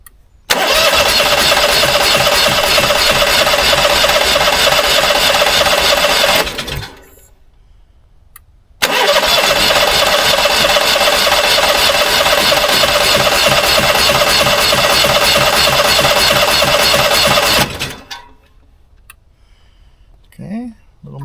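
An Onan 5500 RV generator engine cranks and catches into a loud, steady running drone, cuts out, then restarts and runs again for several seconds before stopping, close up.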